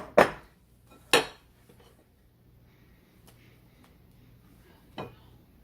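Spoon or utensil knocking against a dish while pudding is mixed for a berry trifle, three sharp clinks spaced apart with quiet scraping between them and no voices.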